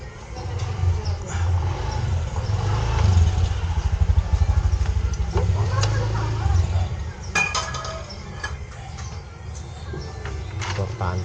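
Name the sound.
tightening motorcycle engine support bolts with tools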